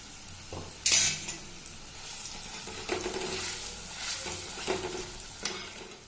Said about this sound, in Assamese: এতিয়া পিটিকি লোৱা জলফাইখিনি তেলতে দি দিছোঁ